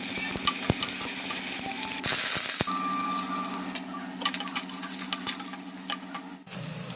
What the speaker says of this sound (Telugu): ఫ్రై చేసిన ఆయిల్లో జీలకర్ర, వెల్లుల్లిపాయలు, పోపు దినుసులు, ఎండుమిర్చి, కరివేపాకు వేసి ఈ విధంగా ఫ్రై చేసుకోవాలి